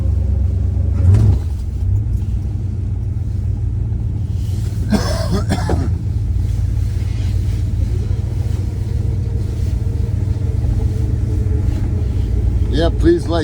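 A 1973 Dodge Charger engine running steadily with a deep, constant rumble from inside the car, a brief higher rev partway through, and faint voices over it.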